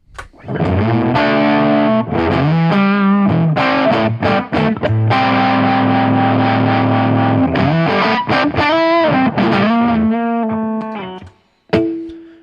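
Electric guitar played through a Sunface fuzz pedal with drive, sustained thick chords and bending notes with a saturated, buzzy tone, played alone without talk.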